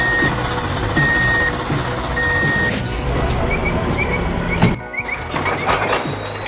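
A dump truck hauling soil on a construction site gives repeated high reversing beeps over a loud diesel rumble, with a heavy thunk and a brief squeal of brakes.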